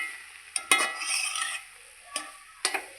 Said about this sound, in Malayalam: അതിനുശേഷം വേവിച്ച് വെച്ച ചെറുപയറും ഇട്ട് നന്നായി ഇളക്കിയെടുത്തു.